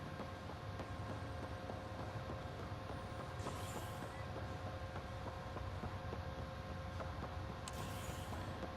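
Steady rumbling hum of a small shuttle tram ride in the video game Mass Effect Andromeda, a constant mechanical drone with two short hissing bursts near the middle and the end.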